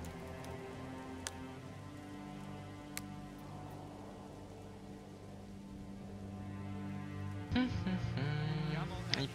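Rain in the medieval city-building game Manor Lords falls as a soft, even patter with a few louder drips, under a steady sustained background tone.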